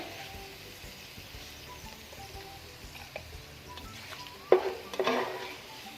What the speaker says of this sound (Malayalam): ഒരു ലൈറ്റ് ബ്രൗൺ കളർ ആകുന്നവരെ നമുക്കിതൊന്ന് ഫ്രൈ ചെയ്തെടുക്കാം.